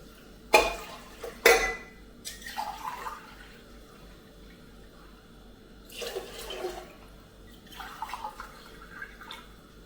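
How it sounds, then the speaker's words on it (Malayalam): Water is poured over raw rice in a pot for khichdi in a few short splashing pours, preceded by two sharp clinks of a vessel, close and fairly quiet. "ഒരു മൂന്നര ഗ്ലാസ് വെള്ളം ഒഴിച്ചു കൊടുക്കാം"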